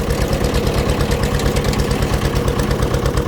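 A Fordson Major tractor diesel engine runs steadily with its PTO shaft spinning, giving a continuous rhythmic low chugging drone that stays close and loud throughout with no talk.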